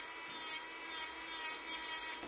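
An electric nail sander files a fingernail with a thin, steady, high-pitched whirring buzz, faint and close, with no talking.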